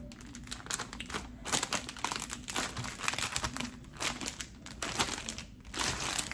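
Resealable plastic packaging is folded over close by, giving a continuous, busy crinkling and crackling that rises and falls in bursts.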